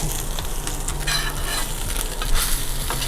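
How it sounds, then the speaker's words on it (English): Food fries in a hot pan, with a dense, close sizzle that holds steady throughout, plus a few scraping stirs against the pan. "You see it's starting to get a little sizzly."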